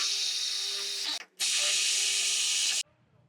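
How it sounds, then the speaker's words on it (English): A power drill whines loudly and steadily through two bursts, drilling mounting holes for a StealthNet gateway unit, separated by a brief pause, then cuts off, leaving faint background noise. "I'm going to reposition and drill the holes to mount the StealthNet gateway"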